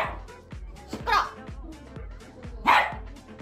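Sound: dog barking

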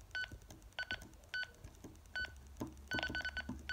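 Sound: walkie talkie beep when changing channels

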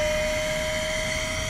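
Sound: cordless DSKEUZEEW high pressure pump deflating kayak

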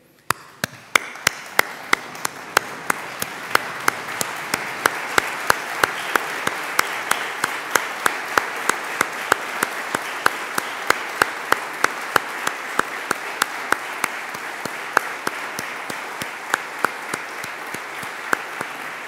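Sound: standing ovation applause in memory of colleagues

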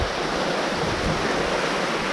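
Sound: Saarfall waterfall with a lake

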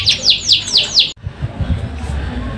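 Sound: small songbird chirping

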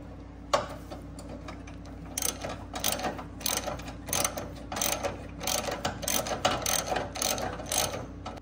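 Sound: loosening a bolt while installing Corvette C8 exhaust

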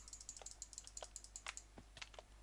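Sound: mouse clicking

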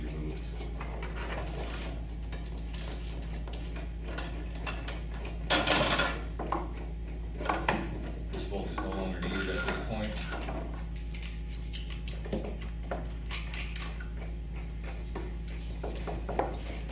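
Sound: wrench and socket removing bolts from piano crate

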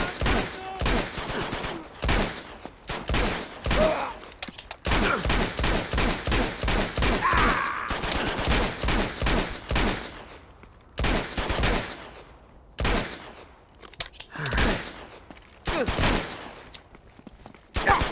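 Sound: gunfire in the Uncharted 2 video game

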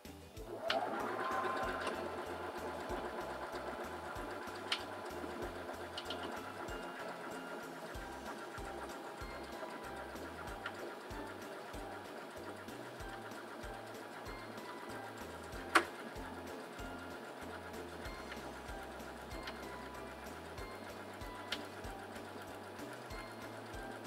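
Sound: Singer Simple 3337 sewing machine sewing a buttonhole

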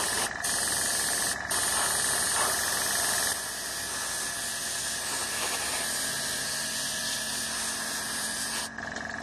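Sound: dual action airbrush spraying paint on a model

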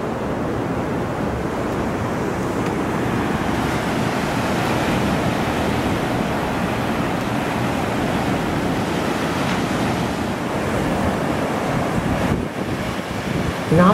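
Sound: waves at China Beach, San Francisco

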